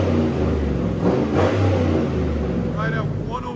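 Deep, booming revs from a straight-piped 6.2L V8 in a custom, lifted Hummer H2, loud and near with a sharp blip in the middle, while someone talks briefly near the end.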